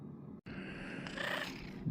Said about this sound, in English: Devil cat will not let me sleep.